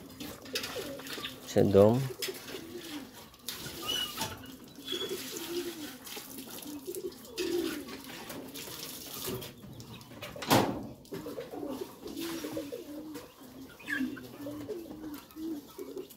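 Pakistani breeding pigeons coo softly and repeatedly at moderate distance, over a faint watery background, while someone talks throughout.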